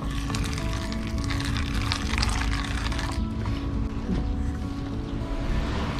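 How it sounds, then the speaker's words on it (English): Hot water from a kettle poured into a puppy's food bowl to soften N&D puppy starter food; a steady, continuous splashing pour runs close and unbroken for several seconds. "I already heated the water in this kettle. So let me just add sufficient water so that this gets dissolved."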